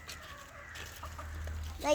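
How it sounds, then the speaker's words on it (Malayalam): A chicken clucks a few short times close by, its calls soft and brief over a low steady background hum. "ഇതാണ് ആ കോഴി."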